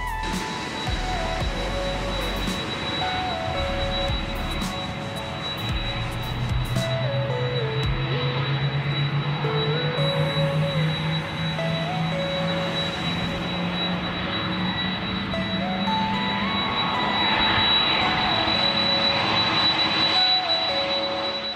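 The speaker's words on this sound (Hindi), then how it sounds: "जहाज़ की व्हील्स रनवे को टच करते हैं। लेकिन कुछ ही देर तक ये जहाज़ दौड़ते दौड़ते रुक जाएगा" Passenger jet touching down and decelerating along a runway, a steady broad engine roar with a rising whine and rumble that swells toward the end, close and continuous with no talk.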